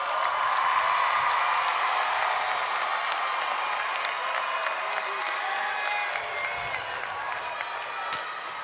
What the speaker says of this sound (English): guys, give your parents a round of applause